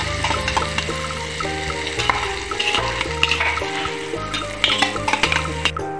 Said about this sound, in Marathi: आता यामध्ये हिरवी मिरच्या बारीक करून घेतलेल्या आहेत त्या सुद्धा यामध्ये टाकून घेणार आहे